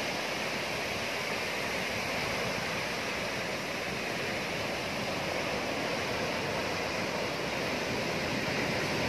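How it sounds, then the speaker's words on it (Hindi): Ocean waves break on the shore in a continuous, even rush of surf noise lasting about nine seconds, with no voices over it. "ये देखो ये लहर बनती है तो कितनी प्यारी लगती है,"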